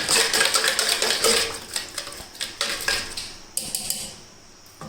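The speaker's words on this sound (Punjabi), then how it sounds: "ਆਪਾਂ ਦੋ ਚਮਚ ਵਿੱਚ ਵੱਡੇ ਰੂਹ ਅਫਜ਼ਾ ਪਾਵਾਂਗੇ ਫਿਰ ਚੰਗੀ ਤਰ੍ਹਾਂ ਮਿਕਸ ਕਰਾਂਗੇ" A metal spoon stirs Rooh Afza syrup into watermelon juice in a vessel, giving continuous loud clinking and scraping that fades into softer, scattered taps, with no voice.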